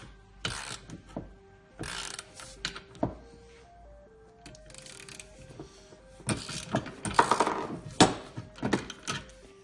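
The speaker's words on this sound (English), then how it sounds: "we can just start tightening this on until the socket forces through the other side and pushes that bearing through there" A socket tightened with a ratchet presses a swing arm bearing out of a Kawasaki KX65 mini GP bike frame, giving bursts of sharp mechanical clicks and metallic knocks in uneven runs, close up, over a faint tonal background.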